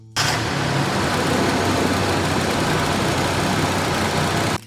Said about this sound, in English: Number 4, 1979 Ford 255 V8.